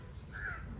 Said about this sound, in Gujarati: અહીંયા જો ઘરની પાસે આવી અને કાગડો બોલે છે